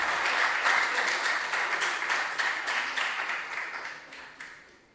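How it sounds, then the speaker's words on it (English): Audience applause at a regional junior science and maths quiz contest in the Ashanti Region: a dense, steady wash of many hands clapping that gradually fades toward the end, with no speech over it. "you may also have to give yourselves a round of applause"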